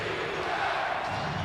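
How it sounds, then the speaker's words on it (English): A packed basketball arena crowd roars steadily during a 1990 Bulls-Cavaliers game, a dense, sustained wall of cheering and shouting with no break across the short moment. "the crowd is back in it with 7:40 remaining"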